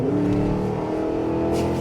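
A 2023 Cadillac Escalade-V's engine roars loudly as the big SUV accelerates hard, a dense, steady growl that rises slightly in pitch over a couple of seconds with no talking.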